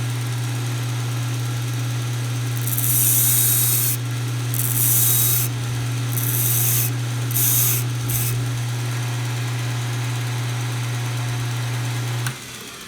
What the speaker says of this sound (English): push it down into the belt and turn it back on